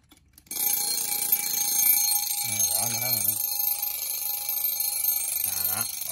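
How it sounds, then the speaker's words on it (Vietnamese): An old mechanical wind-up desk clock alarm rings continuously in a loud metallic clatter, while a person talks over it in short bursts. "Báo thức là vậy luôn"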